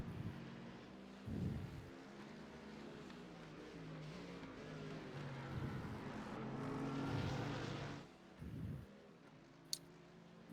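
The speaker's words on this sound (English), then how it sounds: "Listen to those beautiful sounds of that Mercedes." A Mercedes GT race car engine roars in a sim racing game at Mount Panorama Bathurst, a steady, rising high-revving drone with brief downshift blips, kept at a moderate level throughout.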